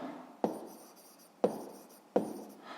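Pen or pencil writing numbers by hand on paper in a sixth-grade maths exercise, three sharp tap-and-scratch strokes spaced about a second apart, close and fairly quiet, with no talking.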